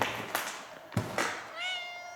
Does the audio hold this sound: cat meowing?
yes